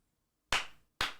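Two sharp hand claps, close and crisp, separated by about half a second of silence.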